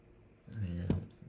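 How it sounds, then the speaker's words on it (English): A computer mouse clicks once to publish and view a website, a single short sharp click standing out over a low background hum. "So if I click publish"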